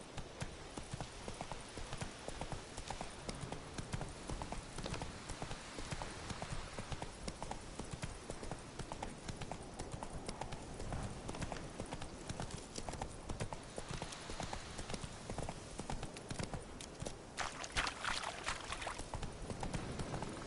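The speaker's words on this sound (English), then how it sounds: "Not so fast, Roach. That's it, Roach. Giddy up." A horse gallops in The Witcher 3 video game, its hooves drumming in a continuous, steady clip-clop rhythm at a fairly quiet level for the whole stretch.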